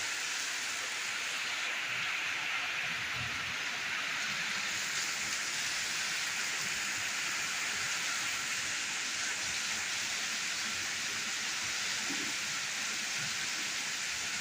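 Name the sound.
heavy rain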